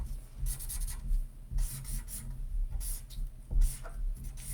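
A drying marker squeaks and rubs across a board in short repeated strokes, close and fairly loud, each stroke a brief scratchy burst separated by pauses.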